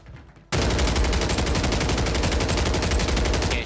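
Automatic gunfire in Call of Duty Warzone on Rebirth Island, a loud rapid burst that starts abruptly after a brief quiet moment and hammers on in an even rhythm for about three seconds.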